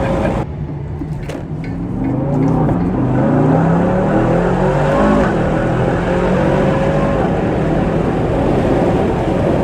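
Aston Martin DBX 707 SUV accelerating hard, a loud continuous engine roar climbing through the gears with rising pitch sweeps, heard from inside or close by with no talk over it.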